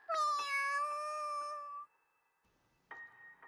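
A cat gives a long, clear meow close by, followed after a short pause by a brief second meow.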